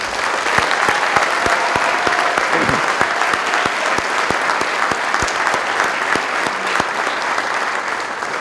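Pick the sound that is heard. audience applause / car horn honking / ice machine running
audience applause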